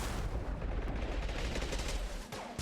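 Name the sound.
gunfire in Mass Effect video game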